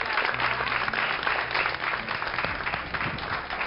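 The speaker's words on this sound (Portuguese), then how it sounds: "Um aplauso para a doutora Nada." A studio audience gives a steady round of applause, dense even clapping with no talk, holding at a moderate level throughout.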